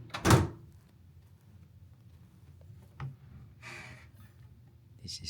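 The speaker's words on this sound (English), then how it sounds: "Drawer." A loud scraping slide at the start, a quiet pause, then a soft thunk and a brief rattle as a hotel room drawer shuts nearby.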